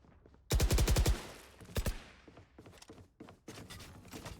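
In a video game, a rapid burst of automatic gunfire sprays a wall during recoil practice, followed by a short second burst and scattered quieter thuds and clicks.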